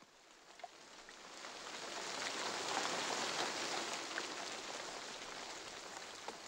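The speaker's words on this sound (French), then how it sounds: "Tiens, il pleut." Steady rain falls in a soft, continuous hiss of many small drops pattering on surfaces, swelling slightly in the middle and fading a little toward the end, with no voices.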